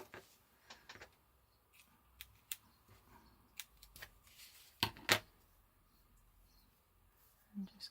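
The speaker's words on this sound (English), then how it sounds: "they're my little paper fussy cut scissors." Small paper fussy-cut scissors snipping paper during a grungy ephemera craft project, a series of quiet, sharp snips scattered irregularly with two louder cuts near the middle, close and otherwise quiet.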